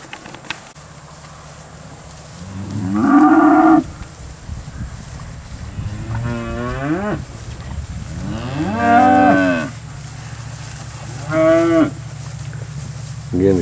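Cattle at a livestock auction moo loudly in four separate long calls, close to the microphone, over a low steady background hum.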